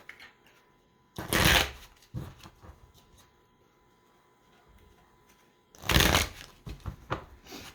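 Oracle cards being shuffled in two loud, crisp riffling bursts separated by quiet handling, close by with no talking.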